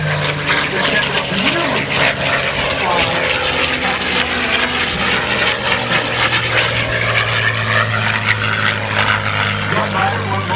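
A North American P-51 Mustang flying aerobatics at an air show in Davenport, Iowa, its loud, sustained propeller-engine roar holding steady with a throbbing low drone and faint speech underneath.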